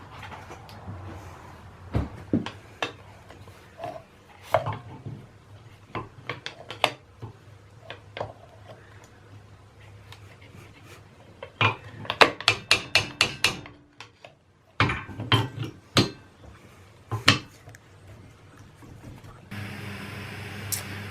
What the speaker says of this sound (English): So while prying on the top of the oil pump, the top broke off.